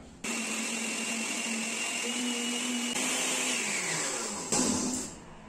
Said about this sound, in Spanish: Vamos a bajar un poquito el volumen para no escuchar el ruido de la licuadora.